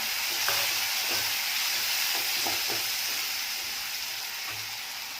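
Chopped tomato sautéing in hot oil with a steady, bright sizzle and hiss throughout, while a spoon stirs the pan with faint scraping knocks now and then.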